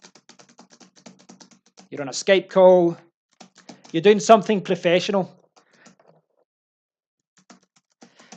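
Steady computer keyboard typing patters in the background, a light rapid clatter of keys continuing under a voice and on alone after he stops.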